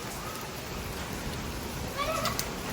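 Hail and heavy rain pour down outdoors during a rainstorm, a dense, steady hiss with a cluster of sharper, brighter ice impacts near the end.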